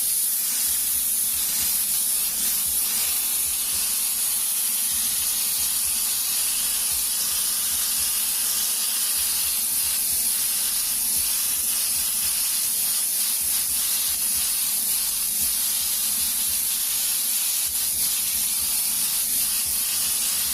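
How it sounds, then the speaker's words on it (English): An airbrush spraying blue paint in a wide pass over white: a steady, close, continuous hiss of air and spray that holds evenly for the whole stretch, with no talk. "we're going to go right over top with a nice wide spray over top of this white"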